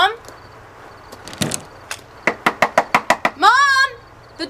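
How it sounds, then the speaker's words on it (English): Fists bang repeatedly on a locked door, a rapid series of loud, close knocks in a tight rhythm, preceded by scattered thumps and followed by a shrill shouting voice. "Quit banging on the goddamn door!"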